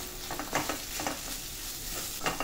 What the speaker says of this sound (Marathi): मसाला चांगला परतून घ्यायचा आपल्या तेलात.